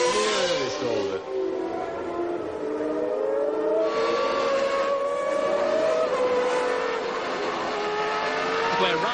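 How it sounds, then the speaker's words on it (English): Onboard a leading Williams Formula One car, the high-pitched engine screams continuously through a right-hand corner, revs rising and dipping with gear changes, loud and close throughout. "We're riding with the lead Williams now as Mansell skirts the right-hander, hugging the edge"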